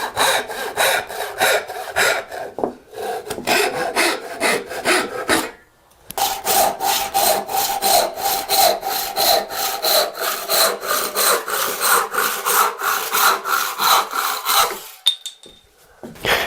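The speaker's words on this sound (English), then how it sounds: "So let's cut this to shape and then cut the taper." A handsaw cuts a wooden wedge to shape for a low-angle jointer plane, steady rhythmic rasping strokes, close and loud, with a brief pause partway before the sawing resumes.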